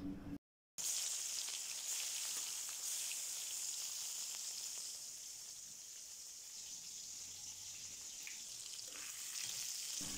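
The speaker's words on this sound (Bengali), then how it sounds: "মেখে মাছ ভাজিটাও বসিয়ে দিলাম।" Fish rubbed with turmeric and salt fries in hot oil, a steady crackling sizzle that runs throughout after a brief cut at the start, close and even.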